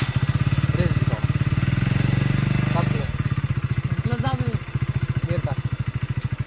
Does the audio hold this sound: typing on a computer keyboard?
no